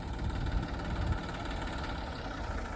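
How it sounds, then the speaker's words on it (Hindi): A Massey Ferguson 244 4x4 tractor idles nearby, a low, even engine rumble with a slight knocking pulse, steady and fairly quiet, with no speech. "ट्रैक्टर बंद कर देना"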